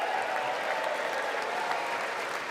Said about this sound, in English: have a bunch of sycophants applaud him